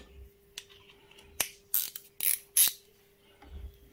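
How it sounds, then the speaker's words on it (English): A ratcheting wrench undoing bolts on a Honda CT110 postie bike carburettor, a few quick metallic clicking bursts close by with brief pauses between them. "now we can undo those two bolts."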